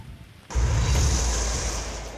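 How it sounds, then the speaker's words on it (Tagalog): A steady roar of heavy rain and gusting wind swells in abruptly and continues loud and unbroken, with no voices. "Tuloy-tuloy ng buhos ng ulan na may kasamang malakas na hangin."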